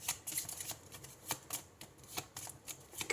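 Tarot cards are shuffled and drawn in quick, irregular bursts of crisp riffling and flicking snaps, close and fairly quiet, with no talk.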